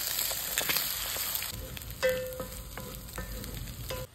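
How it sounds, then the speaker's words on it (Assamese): Two eggs frying in hot oil beside prawns pushed to one side of the pan, with busy crackling sizzle, louder at first, and repeated scraping strokes of a spatula. "তেলত প্ৰথমে প্ৰন ভাজি লৈছোঁ। প্ৰনকেইটা অকণমান ছাইড কৰি তাতে দিলোঁ 2টা কণী।"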